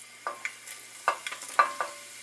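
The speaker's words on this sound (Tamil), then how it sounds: "இதில் கடுகு, வெந்தயம், சீரகம் இதெல்லாம் ஆட் பண்ணிக்கிறோம்." Mustard seeds, fenugreek and cumin hit hot oil for a garlic kuzhambu, giving a few sharp close crackles and pops with short bursts of sizzling between quiet gaps.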